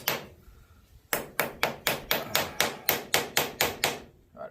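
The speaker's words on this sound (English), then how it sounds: "Taps." Hammer taps on the shift lever of a Monarch 18CBB lathe: about a dozen sharp, evenly spaced metallic strikes, close and loud, after a short quiet lead-in.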